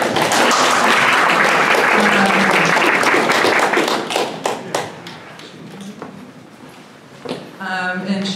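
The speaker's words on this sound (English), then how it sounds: "we're pleased to welcome Carla Grandy here today give her a round of applause" Audience at a STEM speaker series applauds a guest speaker, dense clapping up close that thins into scattered claps and taps before a voice starts talking at the end.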